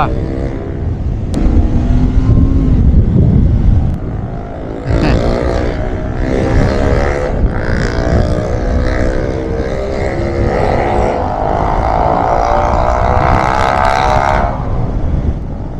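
A Triumph Speed 400 or Scrambler 400 X motorcycle engine runs steadily throughout, its drone rising and falling in pitch as it revs, with some road noise mixed in.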